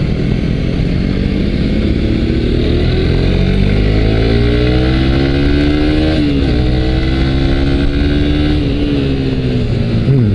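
A Suzuki GSX-S125 motorcycle is ridden on the road, its small single-cylinder engine buzzing loud and close, the pitch climbing and shifting through the gears over steady wind noise, with no talking.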